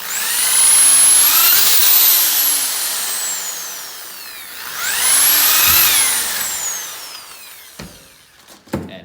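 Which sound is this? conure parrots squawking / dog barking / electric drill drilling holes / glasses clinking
electric drill drilling holes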